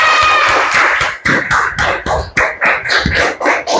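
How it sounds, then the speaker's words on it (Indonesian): A classroom audience claps for the first student group after its presentation on magnets generating electricity, a dense burst of many hands clapping close and loud for several seconds with no speech over it. "Tepuk tangan untuk kelompok 1"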